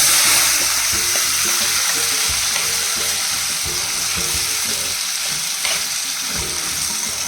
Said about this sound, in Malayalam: ഇനി കടുപൊട്ടി